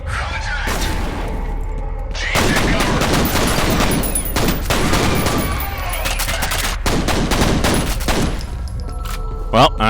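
Video game gunfire in dense, loud bursts of rapid shots with brief pauses, close and dominant, with a voice speaking briefly between volleys.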